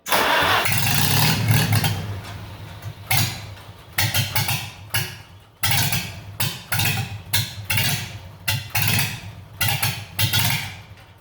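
Farmall H tractor engine being cranked on choke after a carburetor rebuild, first a long grinding crank, then a series of short bursts of firing and stuttering that keep dying out, close and loud.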